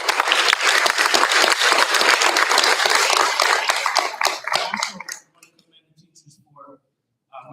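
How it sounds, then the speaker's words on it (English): A room at a school board meeting breaks into a round of applause for teachers and administration, loud and dense for about five seconds before it fades out into near silence with a few scattered claps. "If you could give them a round of applause."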